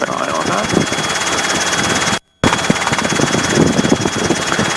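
Robinson R22 helicopter engine running in flight during a training flight, a loud steady drone with rotor throb filling the cabin, briefly cut out once, with people talking over it.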